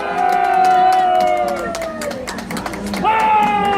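A large crowd at an outdoor campaign rally for a candidate in Gimpo cheers and claps. Loud voices ring out over the ongoing clapping and crowd noise.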